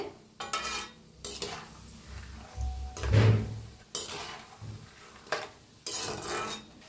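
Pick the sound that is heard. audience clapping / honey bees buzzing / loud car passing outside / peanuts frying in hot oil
peanuts frying in hot oil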